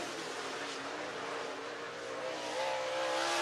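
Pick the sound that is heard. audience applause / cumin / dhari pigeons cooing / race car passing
race car passing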